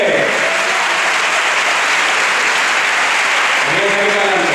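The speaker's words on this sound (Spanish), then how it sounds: "Un aplauso para mis detectives." An audience at a band concert in Manzanares claps in a dense, steady burst of applause that fills the whole stretch, close and loud, with voices briefly heard under it.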